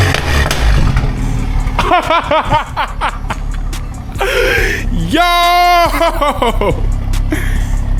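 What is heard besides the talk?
Toyota Supra engine first start with catless downpipe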